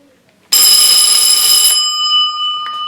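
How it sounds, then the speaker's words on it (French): A homemade house alarm system suddenly goes off, a loud piercing electronic ring of bright steady tones that starts abruptly after a quiet moment and keeps sounding, slightly fading. "Il y a un système d'alarme au niveau de la maison."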